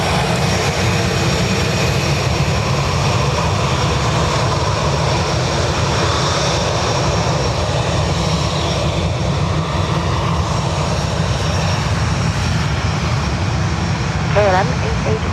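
A KLM airliner takes off from Dublin Airport bound for Amsterdam, its engines giving a steady, loud roar that holds throughout, with a voice talking over it.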